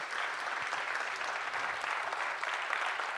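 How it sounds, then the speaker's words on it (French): An audience applauds a trophy recipient at a mayors' awards ceremony in Côte-d'Or, steady dense clapping filling the hall without pause, no voices standing out. "On peut l'applaudir"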